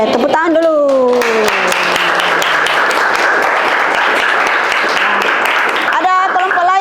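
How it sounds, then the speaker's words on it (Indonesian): Students applaud in a classroom, a dense burst of clapping that runs for several seconds while a voice speaks over it at the start and end. "Oke, tepuk tangan dulu."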